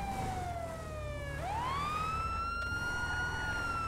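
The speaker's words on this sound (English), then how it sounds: "turn them sirens off, man. They hella loud." A police siren in a video game wails nearby, its pitch sliding down and then sweeping back up into a sustained high tone over a low engine rumble.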